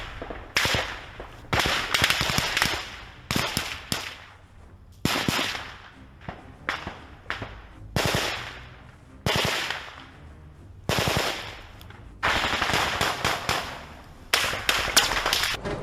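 Heavy gunfire on a battlefield during a front-line assault, with repeated bursts of automatic shots and sharp single reports coming in loud clusters separated by short pauses, continuing throughout.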